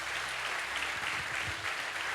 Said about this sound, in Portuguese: Aplauda o Senhor, irmãos